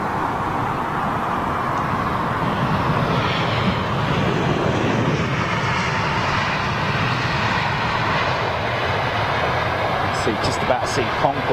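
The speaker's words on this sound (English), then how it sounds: "Got a little single aisle inbound now." A single-aisle jet airliner roars inbound at London Heathrow Airport, a broad, sustained engine rush that swells and shifts as it passes, with wind buffeting the microphone throughout.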